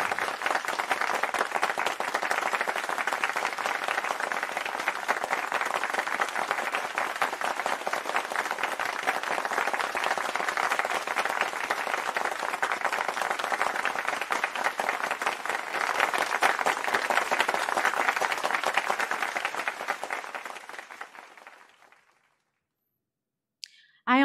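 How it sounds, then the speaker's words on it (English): Sustained applause from a university commencement crowd celebrating the class of 2021 graduates, a thick, even wash of many hands clapping for about twenty seconds before fading out to silence. "the Augsburg community has come together to celebrate our graduating students with our applause"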